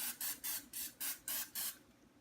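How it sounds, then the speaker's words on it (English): Six short bursts of non-stick cooking spray hiss in a steady rhythm, each lasting about a quarter second, close and alone with no talking. "And this is just some non-stick spray."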